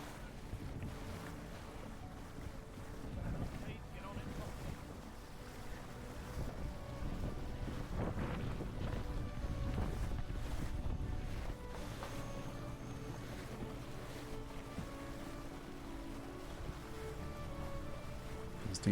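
A Nautor Swan 56 sailing yacht under sail in a steady breeze on the Solent, with continuous wind rush and microphone buffeting over a low rumble of water along the hull, sustained throughout and without talk.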